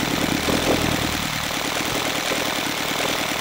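An OS FF320 gasoline engine with CH ignition idles, a fast steady low-pitched putter that runs loud and close for the whole stretch, with no voices over it.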